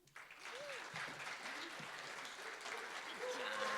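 An audience at a medical cannabis and recovery forum breaks into sustained applause that swells and holds, with voices calling out underneath the clapping.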